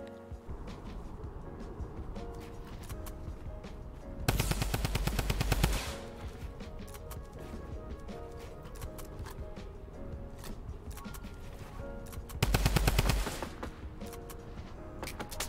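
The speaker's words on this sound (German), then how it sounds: "5 Trommelgewehre. Alter, das wird jetzt Spaß machen" Rapid bursts of automatic drum rifle fire in a video game, two loud sustained volleys of around one to two seconds each, over a steady bed of game ambience and music with no voices.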